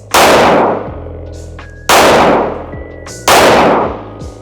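Three loud, close pistol shots from a Smith & Wesson M&P 5.7 fired at a target on an outdoor range, spaced about one and a half seconds apart, each a sharp crack followed by a fading ring and a faint metallic ping.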